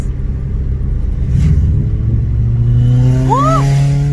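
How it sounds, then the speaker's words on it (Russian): Quad bikes and motorcycles rumble and rev on a road in Provence, France. Engine tones climb toward the end as a bike accelerates nearby. The engines are loud, and no one speaks. "О, какие квадроциклы. Мотоциклы."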